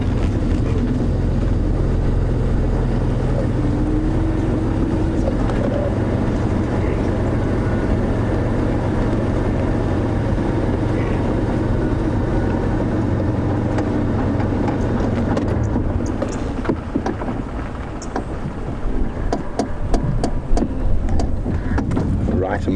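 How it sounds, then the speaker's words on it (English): A safari vehicle engine runs steadily among a herd of wildlife with a deep, continuous rumble, close and fairly loud, with a few light clicks and rattles toward the end. "Let the car run for a little bit, let them get used to the noise of the engine."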